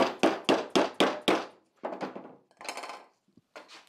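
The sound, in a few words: tapping jointer shaft into bearing with piece of ABS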